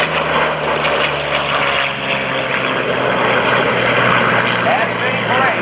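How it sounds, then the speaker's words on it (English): Steady, loud propeller engine drone of former Soviet aircraft throttling up and lifting off at the 2012 NAS Oceana airshow, continuous throughout with a commentator talking over it. "aircraft that are now on the runway and just lifting off"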